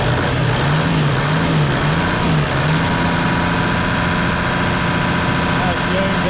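A 1992 Toyota Land Cruiser 80 Series idles steadily nearby, its engine making a loud, continuous low rumble with a faint wavering drone. A person talks over the engine.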